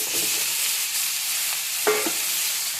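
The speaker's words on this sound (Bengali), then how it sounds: "এখন দিয়ে দেবো বেগুনটা" Brinjal pieces dropped into hot oil for a dried-fish curry, giving a steady broadband sizzle with a brief louder hiss and clatter near the end as the pan is stirred; no one speaks.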